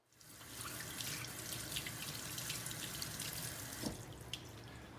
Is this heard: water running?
yes